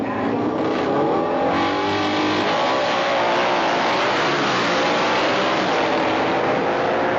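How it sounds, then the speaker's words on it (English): Harley-Davidson drag racing motorcycles launch down a dragstrip at a 1995 all-Harley meet, a loud continuous engine roar rising in pitch as they accelerate away, filling the whole seven seconds. "Big hole shot goes right side, Don Philpott."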